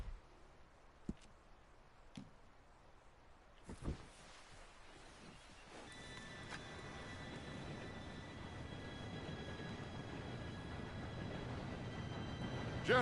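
A train approaches in the video game Red Dead Redemption 2: after a few faint clicks, a low rumble swells and grows steadily louder and closer, with no one speaking.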